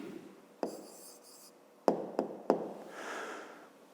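A pen scratches out a short answer on paper, a few brief strokes and taps close by in a quiet room, with no voice.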